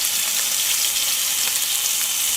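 Salmon sizzles steadily in a hot skillet on a braai, giving a loud, continuous hiss that holds evenly from start to finish with no voices.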